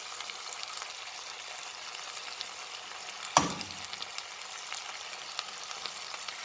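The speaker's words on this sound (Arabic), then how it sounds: "كنخليو الدجاج كيتقلى مع البصله، الليمون وورق الغار" Chicken frying in a pan with onion, lemon and bay leaves gives a steady, soft sizzle throughout, broken once by a brief clatter near the middle.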